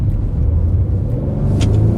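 A Mercedes-Benz E350 EQ Boost, rear-wheel drive, accelerates hard with a deep, steady engine rumble heard from close by inside the car.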